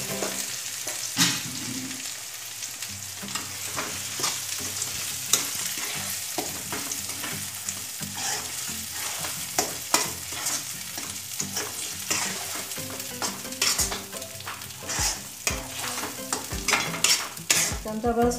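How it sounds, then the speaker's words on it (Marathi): Grated sweet corn paste being stirred in a frying pan for sweet corn upma, with a steady sizzle under repeated scraping and spoon knocks against the pan, close and fairly loud. "आता त्याला छान हलवून घेऊया।"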